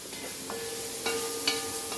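Ingredients for Goan coconut rice roast in a pan with a steady, close frying hiss and a few faint stirring scrapes.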